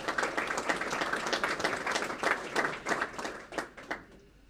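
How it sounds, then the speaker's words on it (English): Another round of applause breaks out for Janet and her staff at a county breakfast meeting, a room of people clapping steadily and moderately loud before it thins out and fades. "I think Janet and her staff deserve another round of applause."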